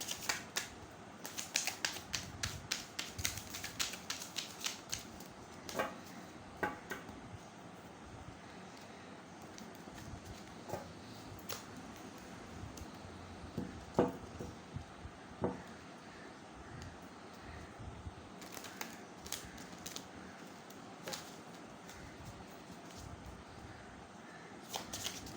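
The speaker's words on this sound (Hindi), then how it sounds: "मैं कार्ड्स को शफल कर रही हूँ ताकि बिल्कुल फ्रेश एनर्जीज और बिल्कुल सही रीडिंग आए" Tarot cards being shuffled by hand in a quiet room, a long run of soft, rapid riffling and flapping bursts that come and go, fairly faint and close, with no talking.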